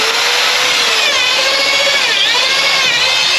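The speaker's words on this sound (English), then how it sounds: "I'm just gonna drill a hole in the bottom of the boat and let the water drain out" A power drill boring into the bottom of a boat, a loud, continuous high whine with a slightly wavering pitch, close up and with no talking.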